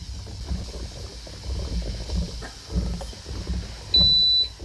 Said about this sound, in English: I just heard a beep, and you probably did too